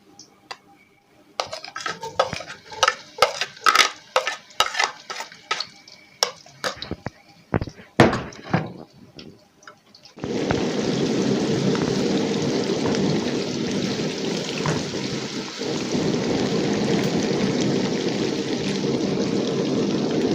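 Chopped onion drops into about a cup of hot ghee while making a roasted chicken, and a loud, steady broadband sizzle starts about halfway through. Before it come clinks and handling noises of the pan. No one talks.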